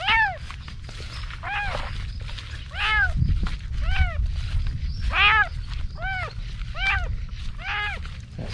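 A stray cat gives about ten clear, plaintive meows at a steady, repeated pace, close by over a low rumbling background.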